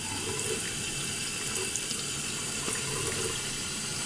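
Water runs steadily from a sink tap while a makeup brush is washed with dish soap against a cleaning glove, a constant close hiss with small splashy changes.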